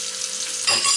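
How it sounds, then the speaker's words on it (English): Onions hit hot coconut oil in a pot with a bright, hissing sizzle that swells louder partway through, close up and without any talking. "Get that sizzle."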